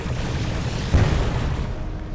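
Missile blast in a space combat video game, a single deep boom rising out of a steady low rumble and fading into the drone.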